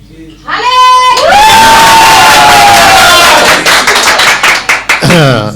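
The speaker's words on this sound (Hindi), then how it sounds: "एक बार जोर से ताली बजा दी, चीख चिल्ला के।" A church audience bursts into loud clapping with cheering and shouting, building after a short strained shout at the start and continuing with whoops and yells over the applause.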